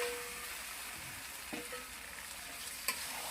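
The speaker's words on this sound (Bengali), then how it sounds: "মশলার মধ্যে মাংস দিয়ে দিব" Chicken pieces and chili-spiced masala sizzle steadily in a pan for a spicy chicken curry, with a constant close frying hiss and a few soft stirring scrapes.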